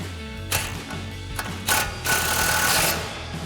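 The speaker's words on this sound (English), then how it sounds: "We'll tighten that back down with our 12mm socket." A ratchet with a 12mm socket tightens a brake line bolt on a Toyota Tundra, giving a few quick bursts of dry clicking, the last one longer, close up and alone.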